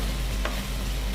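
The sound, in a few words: frying food in a pan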